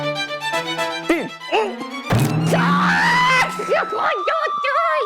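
A man hit on the hand with a hammer lets out a loud, drawn-out scream in a comedy TV scene, with other voices talking around it.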